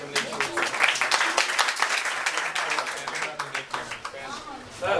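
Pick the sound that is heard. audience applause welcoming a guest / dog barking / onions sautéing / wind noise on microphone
audience applause welcoming a guest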